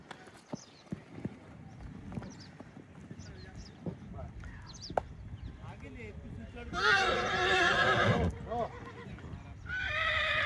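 A stallion at the Pushkar fair walks on hard ground with steady hoof clip-clops, then lets out a loud close neigh followed by a second whinny, while people talk nearby throughout.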